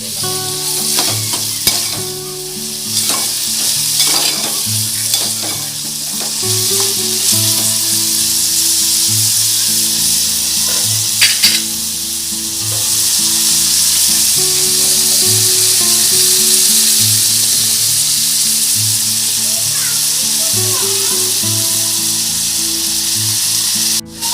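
Dried shrimp (jawla) sautéing over medium heat in a pan, a steady loud sizzle and hiss running throughout with repeated scraping stirs, close up and continuous with no talking.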